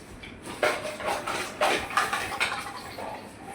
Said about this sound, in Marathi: आता बघा आपण भांडी काढायला लागलो.